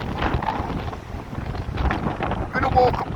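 Strong gusts from Storm Debi roar across Blackpool Prom, rough buffeting wind rumbling loudly and unevenly against the microphone, swelling toward the end.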